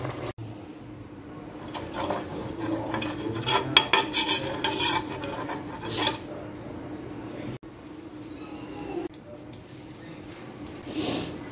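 Chicken stew is served from a pot with metal utensils scraping and clinking in uneven bursts, a faint sizzle underneath, with moments of quiet.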